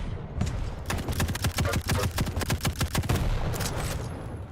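Rapid bursts of heavy machine gun fire in the arena shooter Quake, a dense rattling stream of loud shots through a match, with a pause early and bursts continuing to the end.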